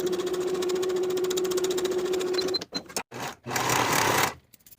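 A sewing machine hums steadily while stitching a dress sleeve's underarm seam at 3/8 inch, a constant motor whir for over two seconds, then stops with short bursts and rustling of fabric handling.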